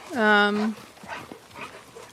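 One dog lets out a loud, drawn-out whine or yelp outdoors, followed by quieter rustling and faint movement sounds.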